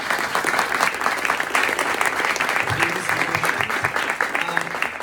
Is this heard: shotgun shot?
no